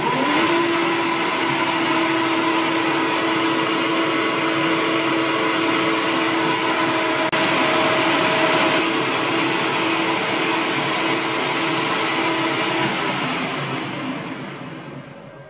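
Powered lathe taking a sizing cut on a 12mm bar for a 10mm thread, a steady close mechanical whir with a faint high tonal whine holding for about fifteen seconds, then tapering off as the machine winds down.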